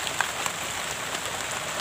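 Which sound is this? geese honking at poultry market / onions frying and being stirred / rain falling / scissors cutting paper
rain falling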